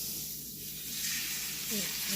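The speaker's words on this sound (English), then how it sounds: "Nice good sizzle." Wild turkey cutlets sizzle and hiss steadily in a hot pan, the crackling frying noise building slightly louder toward the end.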